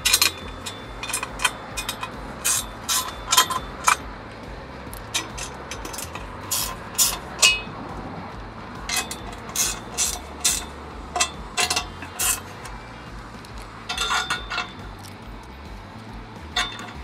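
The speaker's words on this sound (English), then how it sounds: "We're going to tighten this one up first." Sharp metallic clicks and clinks of a fitting being tightened during EZ-DROPS installation on a Fendt Rogator sprayer, in irregular bursts of light ticks over a quiet, low background hum.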